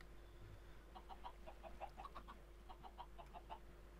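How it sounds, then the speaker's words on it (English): Chickens clucking in Minecraft, a quiet string of short pecking clucks in uneven bursts over a steady low hum, no talking. "Hello, good chickens."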